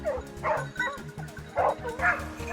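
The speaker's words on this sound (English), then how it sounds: "The hunting dogs are barking again." Hunting dogs bark repeatedly in quick, overlapping yips and woofs, fairly close, with a rhythmic low thumping underneath.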